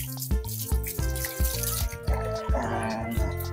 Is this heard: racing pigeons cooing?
no